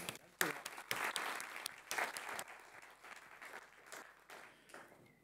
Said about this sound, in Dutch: Laten we hem een applaus geven